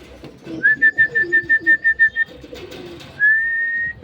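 Racing pigeons coming down onto the loft roof after a race from Lukban, Quezon, with a rapid series of about a dozen short whistling pulses followed by one longer steady whistle, heard fairly close over a low outdoor murmur.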